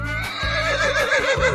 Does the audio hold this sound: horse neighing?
yes